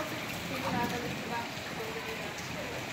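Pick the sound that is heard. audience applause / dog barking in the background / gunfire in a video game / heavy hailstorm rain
heavy hailstorm rain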